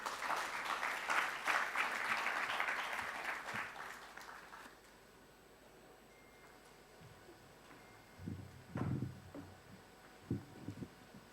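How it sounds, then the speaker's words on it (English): Applause for a keynote address at the 2024 Kenya Diplomatic Awards rises strongly, then cuts off abruptly and gives way to a quiet room with scattered thumps and faint movement. "A round of applause again for the keynote address from Professor"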